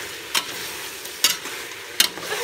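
Chicken cooking in coconut milk in a pan being stirred, a few sharp scraping strokes over a soft simmering sizzle, close and alone.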